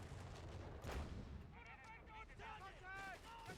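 A Nebelwerfer rocket barrage firing high-explosive rounds in a strategy video game, heard as faint distant booms and rumbling blasts beneath steady voice commentary, one heavier thump standing out early.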